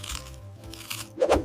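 A crisp, sharp crunch as teeth bite into a fresh Gala apple, a single loud burst near the end after a quieter stretch of low background sound.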